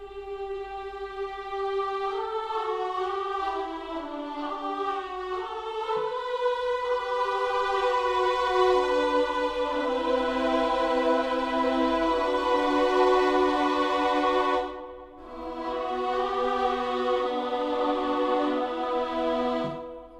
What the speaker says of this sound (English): Let's start with angelic strings, which is violins and choirs.